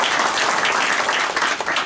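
Audience at a business association morning event applauding its president, a loud, dense continuous burst of clapping with no talk over it.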